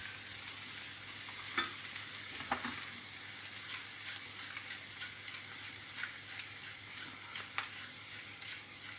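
Mushrooms frying in a pan, a faint steady sizzle broken by a few soft scraping knocks as a bamboo wooden spatula stirs them.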